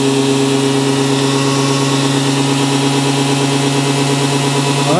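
A boxmotor engine runs continuously during a run test, giving a loud, steady mechanical drone with a constant pitch and no pauses, close up and unbroken with no talk.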